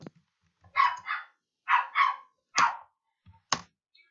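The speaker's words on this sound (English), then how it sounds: "what the dog is doing is called barking." A small dog barks sharply several times, loud and close, in quick yappy pairs and then single barks with short silences between.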